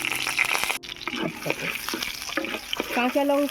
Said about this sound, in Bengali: এবারে ভেজে নেব কাঁচা লঙ্কা